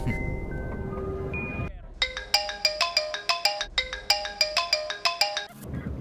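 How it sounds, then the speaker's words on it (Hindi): A phone ringtone plays a bright, repeating chime melody in two loud bursts, after a short stretch of background noise and tones. "पापा का फोन आ रहा है पर फोन चार्ज नहीं है।"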